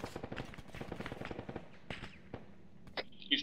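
Rapid machine gun fire from a rooftop gunner on a five-story building in the video game Arma 3, a fast rattling burst of close shots that thins into scattered single cracks, followed by a sharper louder report at the end.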